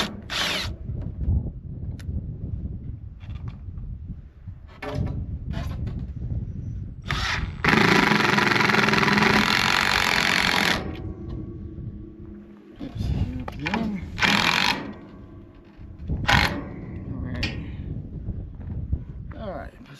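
A power drill driving screws on a farm project, with a loud sustained whirring burst near the middle and shorter bursts before and after, heard close amid talk and handling noise.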